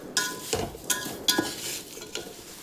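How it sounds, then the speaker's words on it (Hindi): Poha chiwda tempering with curry leaves stirred in a pan over a very low flame, giving a few scraping stir strokes roughly every half second over a soft, steady sizzle, close and alone. "इसको टाइम लगता है अभी ये क्रिस्पी होने में, हमें हिलाते ही रहना है"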